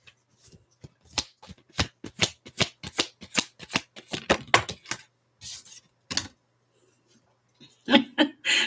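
Tarot cards are shuffled up close in a rapid run of crisp, papery flicks, followed by a pause and a couple of shorter riffles.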